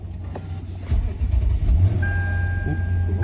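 A 2007 Lexus LS460 with 414,000 miles cranks briefly and catches, then settles into a steady close-up idle with a faint whine over it.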